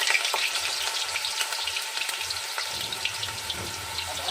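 Potatoes frying in a pan with tempered five-spice, a continuous loud close sizzle and crackle running throughout, with faint stirring and handling noises underneath and no talking.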